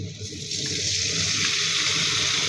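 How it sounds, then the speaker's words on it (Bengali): Hot water is poured into a pan of frying ginger-garlic paste and spices, a short close gush that swells and holds steady. "দিয়ে দিব কিছুটা গরম পানি"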